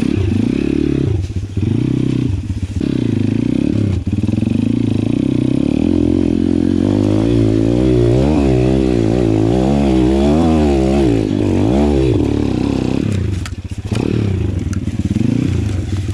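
Pitgang 140XD pit bike engine ridden over frozen ground, a loud, continuous buzzing motor whose pitch rises and falls as the throttle is opened and eased, with clattering from the rough surface.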